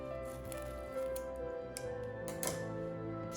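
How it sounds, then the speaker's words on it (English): Scissors snip through paper to cut a hole in a mummy-themed paper craft, a few close crisp cuts over a constant background hum with no talking. "you can either cut this with scissors"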